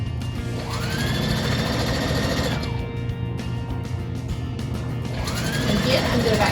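A sewing machine stitches a fabric face mask with a steady, loud mechanical whir that pauses briefly midway and then runs again, ending with a back stitch.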